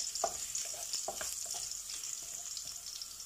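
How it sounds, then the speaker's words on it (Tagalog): Garlic frying and sizzling in a pan: a steady hiss of hot oil with short stirring scrapes and clicks running throughout, close and clear, no talking. "I-brown muna natin ng kaunti ang garlic."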